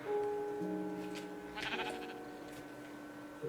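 Minecraft sheep in a desert survival world bleating softly, a couple of faint wavering calls close by with no talk over them.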